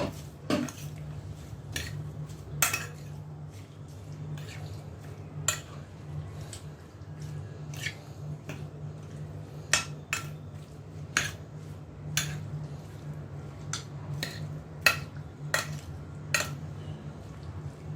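Chicken legs being turned over in a pan with salt, sumac, black pepper and paprika, giving scattered spoon-on-pan clinks and scrapes at a moderate level over a steady low hum, with no talk.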